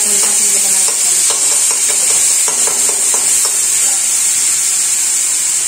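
Tomatoes sizzling in a hot pan while macaroni pasta is being made, with a loud continuous hiss and a run of clattering stirring scrapes up close.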